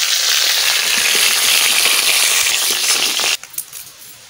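A fish head fries in hot oil in a pan, giving a loud, dense sizzle that runs steadily before cutting off abruptly, followed by a few faint clinks and scrapes.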